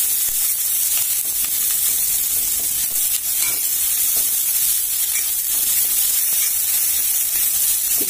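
Onions sautéing in a pan, a loud continuous hiss and sizzle close up with faint stirring scrapes, steady throughout and free of speech.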